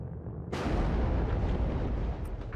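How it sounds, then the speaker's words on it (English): An ammunition explosion in the WARNO war video game erupts suddenly as a sharp, loud blast, then rolls on as a dense, rumbling roar for about two seconds. "Ammo explosion"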